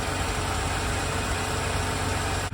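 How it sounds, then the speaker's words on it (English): A 2018 Ford Transit 350 HD box truck's V6 gasoline engine idles close by, a low, even rumble with constant vibration that stops abruptly near the end. "we'll get you guys a good listen at the engine here."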